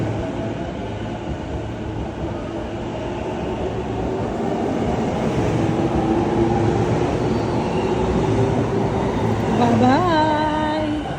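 A train at a station, its broad rumbling roar steady and loud throughout, ending with a rising tonal whine from the cars as it moves.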